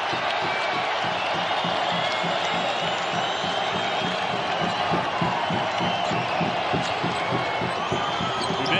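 Basketball arena crowd during a New Mexico versus Nevada NCAA men's game, a dense, steady roar of cheering with sneaker squeaks and ball bounces running underneath throughout.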